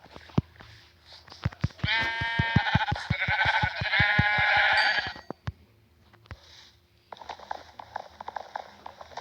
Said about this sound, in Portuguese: vou matar esses ovelhas aqui